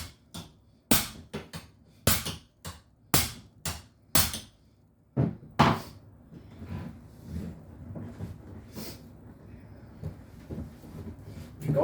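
Sharp metallic hammer blows on a PS90 barrel shroud, several loud close strikes in an irregular rhythm, some in quick pairs, then quieter knocking and handling noises with faint background talk.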